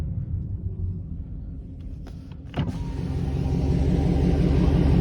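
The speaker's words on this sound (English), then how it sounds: "We're gonna do a burnout." A Dodge Charger ScatPack runs with a deep, loud engine rumble that builds and swells steadily toward a sustained roar, with a sharp click and brief mechanical noise partway through.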